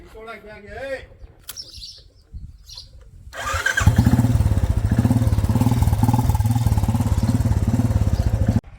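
A Bullet motorcycle engine starts and settles into a loud, steady thumping idle, preceded by a few seconds of quieter sounds and faint bird chirps.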